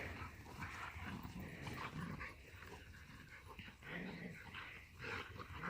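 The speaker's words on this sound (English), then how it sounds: "The dogs are going crazy, but Giddy wants to play first." Dogs growl and scuffle while playing, a low, continuous rumbling snarl with occasional whimpers, faint and somewhat distant throughout.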